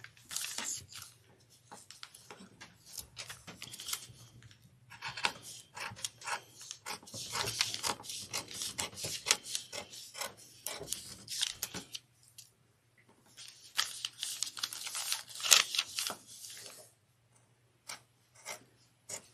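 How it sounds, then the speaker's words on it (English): Fabric pattern pieces are trimmed by hand with scissors in quiet, close snips and rustles, coming in irregular bursts over a low steady hum. "I'm going to take my time trimming because I'm not at the cutting table."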